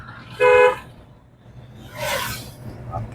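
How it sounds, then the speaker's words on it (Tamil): A short car horn honk blares once, followed a moment later by a broader burst of engine or road noise, with faint traffic rumble underneath. "horn one more"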